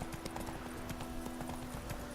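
Roach, Geralt's horse in The Witcher 3 video game, trotting with a quick, even clip-clop of hooves close by, over a steady low tonal hum.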